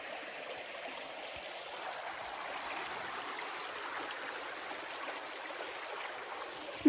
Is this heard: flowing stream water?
yes